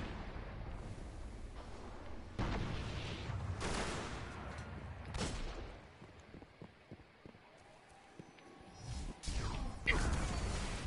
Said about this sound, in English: Their stupid fucking missile launchers.